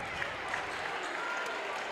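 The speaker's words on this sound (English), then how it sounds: "Jace Hout gets a nice round of applause from the Bulldog faithful." Crowd applause from home fans at a boys' high school basketball tournament game, a steady, moderately loud clapping that fills the gym for about two seconds.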